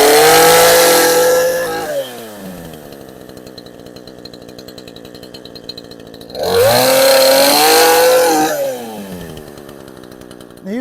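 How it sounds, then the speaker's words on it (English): A chainsaw revs loud and close, bogging into a protective glove as it cuts, then drops to a rattling idle before revving hard again for a second burst and idling once more. "So let's go ahead and get our chainsaw started."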